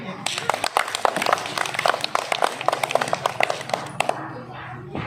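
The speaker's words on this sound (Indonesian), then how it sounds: "Tepuk tangan." Students in a school physical-education class clap after classmates perform a backbend, a few seconds of sharp, uneven group claps that fade out at the end, with voices audible underneath.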